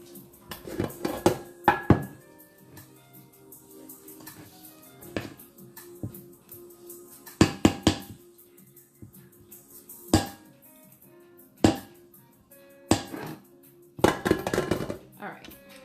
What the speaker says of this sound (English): Let me scrape the bowl, my good people.